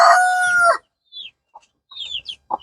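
Chickens on a poultry farm where fowl pox has struck the flock: a long rooster crow up front, then scattered short clucks and soft calls, fairly close and with no one talking.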